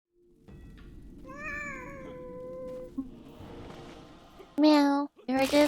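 A cat meows in the video game Neverwinter, a drawn-out tonal meow over game background noise, followed by a few louder, sharper meows near the end, with a voice speaking between them.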